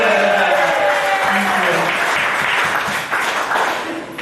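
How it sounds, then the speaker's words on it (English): Audience applause at a 1992 Mariners Club event in Hong Kong, loud and continuous crowd clapping that mixes with a voice speaking over it. "Big round of applause. Round of applause."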